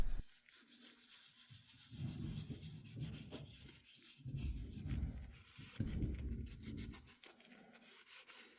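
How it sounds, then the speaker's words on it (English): A cloth buffs excess wax off a leather hair barrette, giving quiet rhythmic rubbing strokes in uneven bursts with short pauses between them. "I finish it up by buffing off any excess wax."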